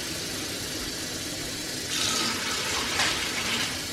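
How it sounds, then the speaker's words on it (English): A cup of water poured into a cooking pot in a home kitchen, a soft splashing gush that rises over a steady low background hum for about two seconds, with no talking. "Let me add 1 more cup of water."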